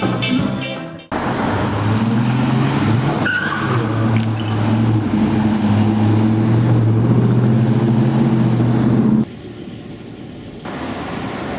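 Cars pulling away toward a car park after a ska band's sound check on a 2019 US tour, engines steady and close with a smooth roadway hum that drops away near the end.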